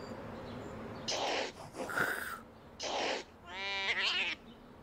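A cat meows in the video game The Wild Case, giving a few short, fairly close calls spaced over several seconds against a quiet in-game background.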